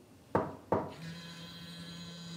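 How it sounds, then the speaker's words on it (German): Two sharp knocks on the door of a built-in dishwasher in a luxury apartment, close and clear and about a third of a second apart, followed by a low motor hum as the door begins to open. "2-mal gegenklopfen."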